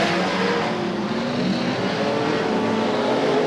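Race cars roar steadily around Gallatin Speedway late in a race, engines droning loud and continuous with a slight rise and fall as the field passes, with no voices heard.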